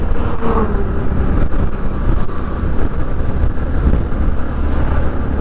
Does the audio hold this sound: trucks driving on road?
yes